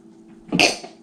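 A stifled, half-finished sneeze: a single short breathy burst that catches and cuts off abruptly, close to the microphone against a quiet background.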